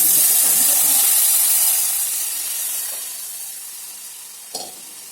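Steady loud sizzling and hissing as curd and gram flour hit hot tempering in a pan for kadhi, a broad close sizzle that slowly fades, with a brief clink near the end.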